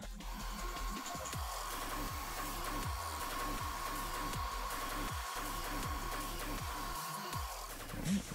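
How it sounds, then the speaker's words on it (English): Heat tool blowing hot air over spiked cosplay wig fibers, a steady loud whirring hum that runs unbroken throughout. "So this time I'll hold it in the position I want it to dry in and then hit it with heat."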